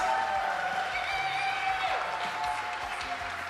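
Crowd applause for para shooters heading to the line at a world championship men's 10m air rifle event on an air base, a steady wash of clapping and light cheering under a continuous tonal hum, with a voice faintly present.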